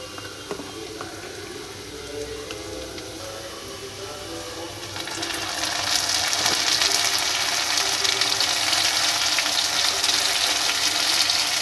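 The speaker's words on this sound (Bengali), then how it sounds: "তেল দেওয়ার পর যে আলুগুলো কেটে রেখেছি সেগুলো ভেজে নেবো" Cut potatoes frying in hot oil in a kadai for a Bengali prawn dish, a steady close hiss that swells louder and brighter partway through and then holds, with no talking.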